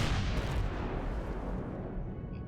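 Sustained turret combat in the space survival game Empyrion Galactic Survival, set in a snowy survival scenario: a dense, continuous roar of heavy weapon fire and booming impacts, loud and steady throughout with no talking.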